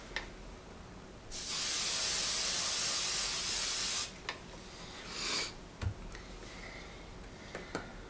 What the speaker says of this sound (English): now I'm going to spray it again